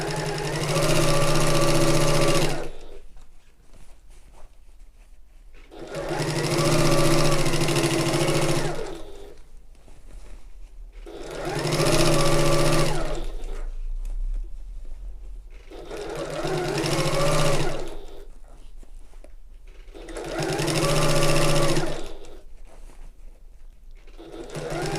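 Sewing machine stitching tote bag fabric in five long loud runs of steady motor whir, each separated by quieter pauses while the fabric is adjusted and smoothed flat.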